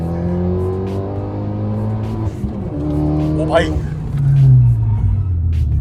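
A stage 3 custom Fiat car accelerates hard, its engine rumbling loudly and rising in pitch through the run, close to the microphone, while someone speaks briefly over it.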